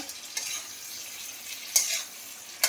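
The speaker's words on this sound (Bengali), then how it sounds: "মাছের মাথা দিয়ে ভালোভাবে একটু কষে নিই।" Hilsa fish heads sautéing in a pan, giving a steady soft sizzle with a few brief sharp scrapes of stirring, close and alone without talk.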